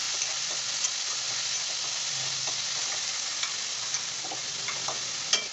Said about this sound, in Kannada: ಟೊಮೊಟೊನು ಕೂಡ ಆ್ಯಡ್ ಮಾಡಿಕೊಂಡು ಅದನ್ನು ಕೂಡ ಚೆನ್ನಾಗಿ ಫ್ರೈ ಮಾಡ್ಕೊತಾ ಇದ್ದೀನಿ